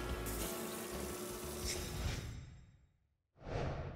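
Tap water runs for hand washing, a steady broadband rush that fades out, stops briefly, then gushes again close by.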